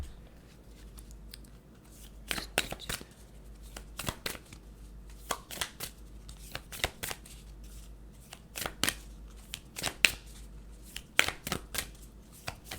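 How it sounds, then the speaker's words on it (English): Moonology oracle cards are shuffled by hand in repeated quick riffling bursts and sharp card snaps, close and fairly quiet in a still room. "Let's get some Moonology cards now."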